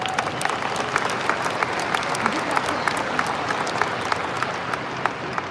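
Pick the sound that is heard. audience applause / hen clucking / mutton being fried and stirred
audience applause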